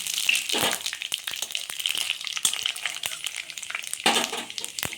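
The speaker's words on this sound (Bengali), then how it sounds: "তেলটা গরম হয়ে গেল আমি পাঁচ ফোড়ন দিয়ে দিলাম" Panch phoron whole spices crackle and sizzle in hot oil for a Bengali bori jhol, with steady frying hiss broken by sharp pops and spits, close and alone.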